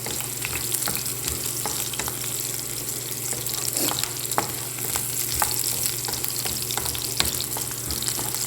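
Chopped onions frying in a pan for Arabic shakshouka, a loud continuous close sizzle with occasional stirring scrapes and crackles, no voices.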